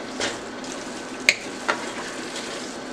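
Ground meat sizzles in a frying pan while being stirred, a soft constant hiss broken by a couple of sharp scraping clicks of the spoon.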